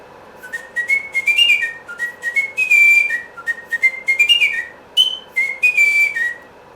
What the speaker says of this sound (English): you can turn him on and he will swing and whistle a tune for you.